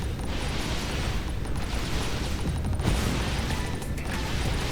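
Rockets exploding in Dyson Sphere Program while defenses fight the dark fog, a continuous rumbling barrage of booms and crackling blasts with a sharper burst near the middle, dense and steady throughout.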